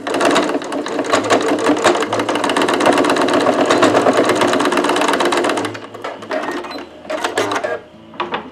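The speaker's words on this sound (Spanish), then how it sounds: "pues lo voy a coser porque si no se me va a meter hacia adentro" Sewing machine running in a long steady burst, stitching the fabric of a nurse cap, then stopping and restarting in shorter bursts; loud and close, with no talk.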